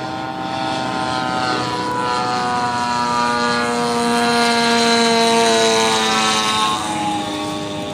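A radio-controlled Sea Fury model warplane, made by Century Jet Models, drones overhead at an RC airshow, its engine a steady buzzing whine that swells slightly as it passes and then eases off.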